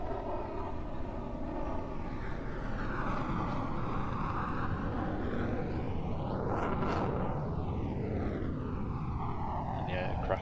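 A military jet flies over an air show, its broad engine roar sweeping past with a strong pass near the middle and a falling tone afterward, loud and steady throughout, with talk running underneath.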